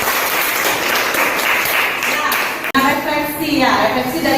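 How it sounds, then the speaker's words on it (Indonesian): Middle school students clapping together in a classroom after a civics lesson, a lively burst of applause that stops abruptly, followed by a teacher's voice speaking. "Beri tepuk tangan dulu."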